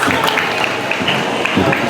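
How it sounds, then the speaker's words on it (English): Audience applause for a young performer at a Kuchipudi classical dance event, a dense steady wash of many hands clapping close by for the full stretch, with no voices over it. "So make a big round of applause."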